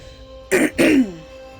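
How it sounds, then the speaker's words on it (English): Two harsh throat clearings in quick succession, close and loud, from someone getting over a cold, with quiet game audio beneath. "Sorry if I'm going to be always clearing my throat, you guys"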